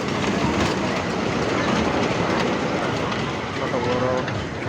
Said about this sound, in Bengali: এই যে দেখেন ট্রেন চলছে